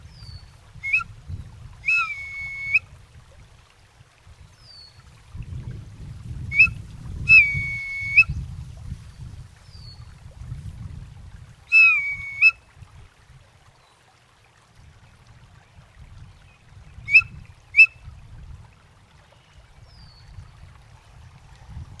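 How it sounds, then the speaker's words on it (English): A turkey bone whistle gives four short, shrill, reedy blasts spaced several seconds apart, each a bright tone with a quick chirp, over a soft, steady low rumble. "This is a turkey bone whistle."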